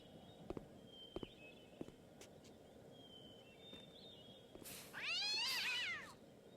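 A cat in the video game Gabriel Knight 3 lets out one drawn-out, wavering meow near the end, after a few soft scattered taps and footstep-like clicks, with no speech.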